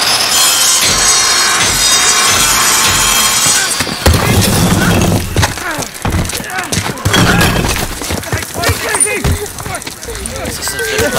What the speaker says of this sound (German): Bring die Säge!